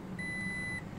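A Passport Max radar detector, plugged into a 2018 Toyota Tacoma, gives a single steady electronic tone lasting most of a second over a low engine hum as it powers on with the ignition.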